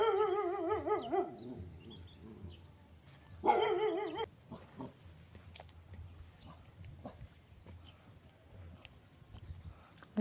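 A dog barks in a few short, fairly loud bursts at a children's park in the countryside on a rainy day, then outdoor ambience carries on with quiet background noise.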